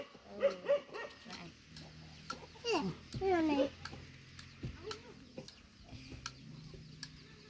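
A brooding hen sitting on eggs in a tribal village near Sepon in rural southern Laos gives low, soft clucks and grumbles, with someone talking quietly nearby in an open outdoor setting.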